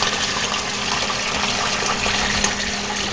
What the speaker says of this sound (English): All the grow beds drain into the sump, which pumps the water up into the 350-gallon tank.